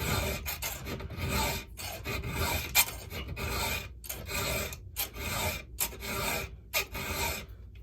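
A hand file rasps across chainsaw chain teeth in repeated short strokes, each a bright scraping pass separated by brief pauses, close and steady with no talking.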